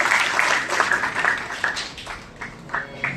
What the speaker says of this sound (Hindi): मैं एक बार ताली चाहूंगा